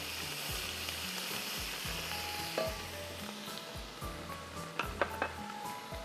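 Two tablespoons of ginger garlic paste sizzle and fry steadily in a pan for Banarasi pulao, with a spoon stirring and clinking against the metal at intervals, close and continuous without talk.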